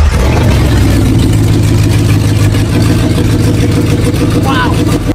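A car engine, on a custom-built car styled as a Batmobile, runs loudly and steadily with a deep rumbling throb throughout, close to the microphone.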